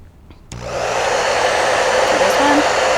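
A heat gun for melting crayons switches on abruptly and blows hard at a lower power setting, a loud, steady, close rush of air that holds without a break.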